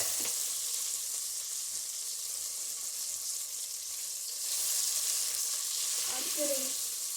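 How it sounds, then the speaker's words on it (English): Beef chunks browning in a stew pot sizzle steadily and loudly, a dense continuous frying hiss with a few faint clinks near the end. "you're only browning this. You're not cooking it. You're only browning it."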